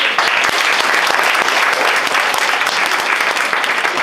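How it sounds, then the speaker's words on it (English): Dense, loud applause from an audience at a public speaking contest fills the whole stretch evenly, a continuous patter of many hands. "please, another round of applause for you guys"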